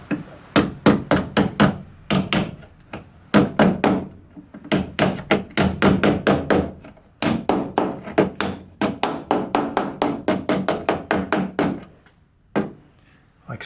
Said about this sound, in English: And then I'm going to take my dolly, try to fold that edge.